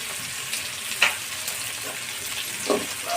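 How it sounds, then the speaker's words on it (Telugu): Tomatoes cooking in oil for fish biryani give a steady, close sizzle and frying hiss, with a few soft stirring knocks and scrapes against the pan. "టమాటా బాగా ఆయిల్లో మగ్గాల."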